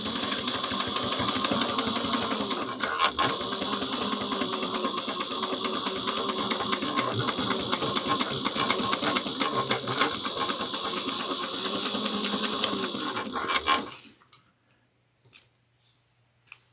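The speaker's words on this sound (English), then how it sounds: "And we're going to sew this on at 3/8 inch, and I'm going to backstitch at the beginning and at the end" A sewing machine stitches a clutch wallet at a 3/8 inch seam with backstitching, running in a fast, continuous mechanical rattle for about fourteen seconds before stopping, followed by near silence.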